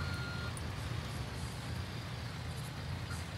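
A truck backing up in the Construction Simulator 4 game, its engine rumbling steadily and loudly beneath a continuous high reversing tone throughout.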